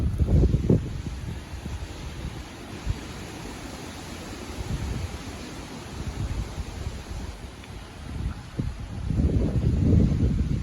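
Strong gusty wind of around 45 mph blows hard outdoors, roaring across the microphone in surges that swell and ease, loudest at the start and end, with no talk over it.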